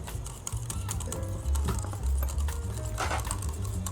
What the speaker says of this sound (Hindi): 1 किलो हमने दही लिया है, इसमें डालेंगे 2 टेबलस्पून चीनी और इसको अच्छी तरह से फेंट लेंगे।